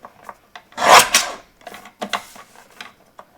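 Short rasping strokes of a trimmer cutting a narrow strip off cardstock for a shaker card, one louder stroke followed by several lighter scrapes and soft taps, close and otherwise quiet.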